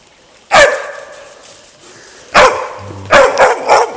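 A hunting dog barks out in a forest: a single sharp bark, a pause, then a quick burst of three or four more barks, fairly close and loud over quiet woodland.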